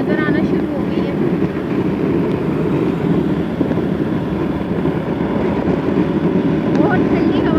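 Cold wind buffets the microphone during an outdoor ride near the Shah Faisal Mosque in Islamabad, a loud, steady low roar with continuous rumbling gusts throughout.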